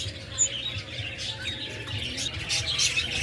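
Parakeets in a breeder box give scattered, soft high chirps and tweets over a low background hum, with small bursts of calls throughout.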